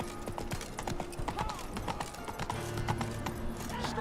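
Hooves of Roach, a horse in a video game, clip-clop in a quick steady rhythm close by, over a busy game soundscape with occasional faint clatter.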